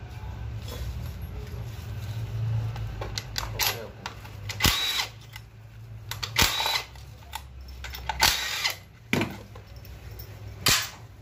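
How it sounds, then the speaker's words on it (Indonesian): A power tool whirs in short, repeated bursts, with clicks and clanks in between, while 10mm bolts are removed from the automatic transmission oil filter of a 2007 Toyota Harrier. "Ini filter oli maticnya dicabut dulu ya, baut 10-nya."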